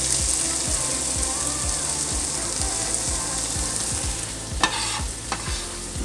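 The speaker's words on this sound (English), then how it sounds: "Now I'm going to add my onions." Onions sizzling in a hot pan while being stirred, a dense steady hiss with rapid rhythmic scraping of a utensil across the pan and a couple of sharper clatters near the end.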